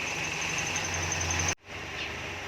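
A car engine idles with a vacuum leak, a steady hum with a thin high whistle riding over it, cutting out abruptly for a moment before resuming more quietly.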